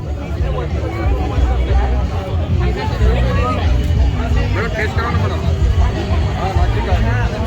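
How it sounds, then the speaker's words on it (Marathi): Dense, loud hubbub of a festival crowd at the Raigad Mahotsav market, many overlapping voices chattering continuously close by with nearer talk mixed in. "गर्दी भरपूर आहे एकदम आज"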